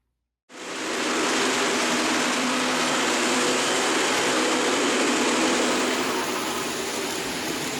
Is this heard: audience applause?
no